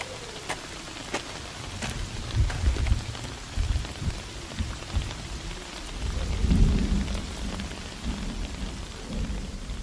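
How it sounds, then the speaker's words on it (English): Steady rain falls throughout, with low rumbles of thunder swelling in the middle and again later, no voices. "Rain in the evening."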